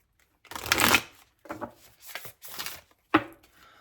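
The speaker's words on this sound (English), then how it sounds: "I'm just going to shuffle once because I have already pre-shuffled." Tarot cards being shuffled by hand in a few quick bursts: a longer riffling rush, then three shorter shuffles and a final sharp snap, close and clear with no voice.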